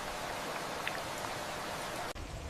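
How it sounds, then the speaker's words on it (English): Steady rain falls in a rainforest jungle as a soft, even hiss of drops, close and unbroken, with no voices. "Every drop of rain brings life to this wild world."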